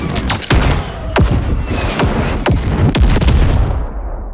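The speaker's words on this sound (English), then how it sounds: "practicing some punchy tonal explosions that have minimum noise and some dry tails" A string of punchy, tonal explosion bursts hits in quick succession, each a deep thump with a downward-sweeping tone and short dry tail.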